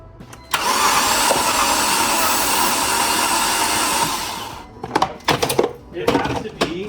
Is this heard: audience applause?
no